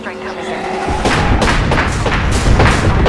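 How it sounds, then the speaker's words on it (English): Loud airstrike explosions in the Apex Legends video game, a dense run of booming blasts that starts about a second in and rolls on to the end, with a player's voice over it. "Civilian airstrike. coming in."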